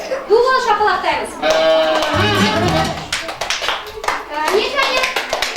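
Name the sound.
kindergarten children clapping hands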